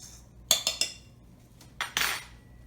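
Sifted flour, sugar and salt are stirred in a bowl: a few sharp clinks of a utensil against the bowl, three quick knocks, then a couple more scraping taps after a pause, close and quiet with no talk.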